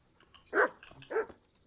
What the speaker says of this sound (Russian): О, собачка.